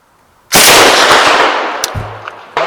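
Swedish K m45/b submachine gun firing on full auto outdoors, a loud sudden burst that rings out and decays over about two seconds, followed by a sharp second report at the end.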